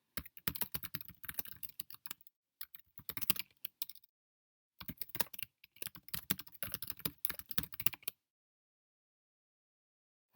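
Code being typed on a computer keyboard for an Inform wardrobe game: quick clattering keystrokes come in several bursts separated by short pauses, then stop into silence near the end.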